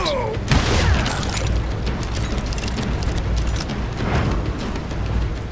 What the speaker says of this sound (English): Don't start shooting at me while I'm talking.